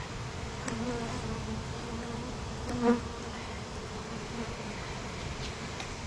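A honey bee colony in an opened hive hums as a dense, continuous buzz, with individual bees occasionally droning close by.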